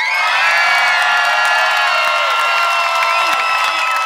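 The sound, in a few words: concert crowd screaming and applauding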